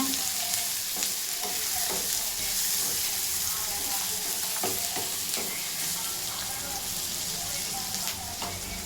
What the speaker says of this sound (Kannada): ರೋಸ್ಟ್ ಆಗಬೇಕು. ಈಗ ನೋಡಿ, ಈರುಳ್ಳಿ ಸ್ವಲ್ಪ ಕಲರ್ ಚೇಂಜ್ ಆಗಿದೆ, ಬಾಯ್ಲಾಗಿದೆ.